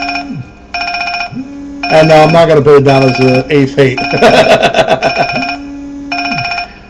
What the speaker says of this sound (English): And my phone is ringing.